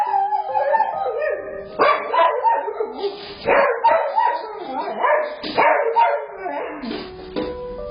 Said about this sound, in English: the family dog just goes nuts